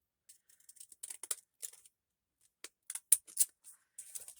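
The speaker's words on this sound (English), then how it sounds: "so let's cut it down just a little bit." Scissors snipping a piece of paper down to size for a craft tag, a series of close, crisp cuts in uneven bursts separated by short quiet gaps.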